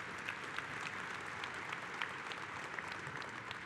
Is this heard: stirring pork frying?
no